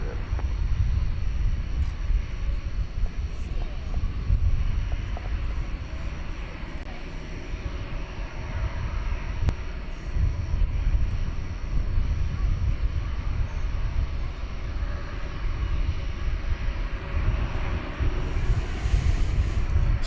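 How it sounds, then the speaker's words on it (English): A Spirit Airlines Airbus A320 arriving at DFW Airport at night, a steady, broad jet engine roar held throughout at moderate distance, with no rise or fade. "Spirited arrival by flight 809 coming in from Fort Lauderdale, an Airbus A320"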